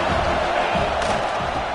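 A football stadium crowd roars in support of the defense, a loud sustained wall of cheering and shouting that swells slightly near the middle and continues throughout.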